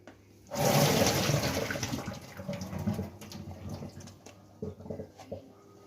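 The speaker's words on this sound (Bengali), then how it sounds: "জলটা ঝরিয়ে নিচ্ছি আমি" Water from boiled chickpeas pours out in a loud, splashing rush that gradually eases into lighter trickling and dripping, with a couple of small knocks near the end and no talk.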